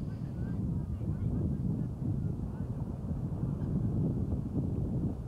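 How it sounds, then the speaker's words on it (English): Wind blowing across an open rugby field during a match, a steady low roar buffeting the microphone close up, constant throughout with no clear voices. "Wind picking up here, if you can hear it."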